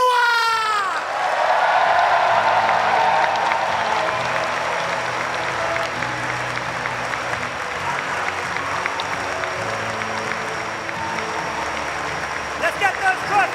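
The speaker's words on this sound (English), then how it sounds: "And a huge round of applause for the Video Game Masters champion, Paul Chua!" A crowd at a Pokémon championship bursts into loud, sustained applause and cheering that carries on for over ten seconds, with a voice briefly heard at the start.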